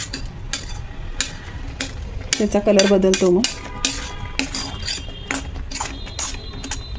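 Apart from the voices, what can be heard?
stirring amla in a pan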